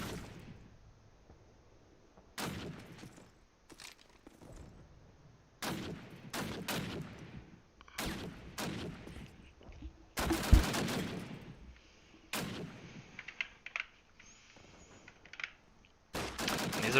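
Gunfire bursts out in a competitive video game match on the Dawnville map: repeated loud shots and rapid volleys, some short and some sustained, separated by brief quiet gaps.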